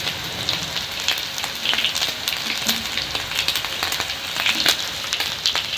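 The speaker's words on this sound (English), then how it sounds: "here I'm frying my chicken after the marination" Marinated chicken fries in a pan with a continuous sizzle, broken by frequent sharp crackles and pops of spitting oil, close and fairly loud.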